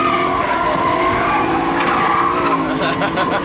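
McLaren 570S tires squealing loudly and steadily throughout a drift, layered over the roar of the car's engine.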